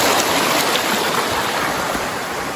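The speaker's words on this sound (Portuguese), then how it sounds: "Eu tenho que atravessar o córrego." A flowing creek crossed on a wooded hillside trail, heard as a loud, close, continuous rush and babble of running water with no voices.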